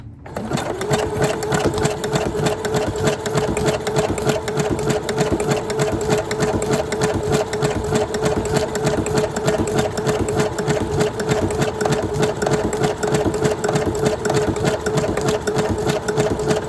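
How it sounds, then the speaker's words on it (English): A sewing machine runs a continuous zigzag stitch along the side of a flip-up pocket, a steady loud mechanical whir with rapid needle chatter, close up and uninterrupted for about seventeen seconds. "So I'm starting at the side. I'm going to do a zigzag stitch."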